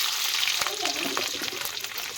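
Crushed garlic dropped into hot oil already crackling with mustard seeds and curry leaves, a steady close sizzle and spatter with faint scraping throughout.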